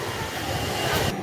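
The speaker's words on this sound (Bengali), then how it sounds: "পুরী স্টেশনের 5 নম্বর প্ল্যাটফর্মে দিয়েছে হাওড়ার থেকে আসা 22896 পুরী হাওড়া বন্দে ভারত এক্সপ্রেস" At Puri station's platform 5, the Puri–Howrah Vande Bharat Express gives off a brief, steady low rumble with a hiss of motion, heard alone for a moment.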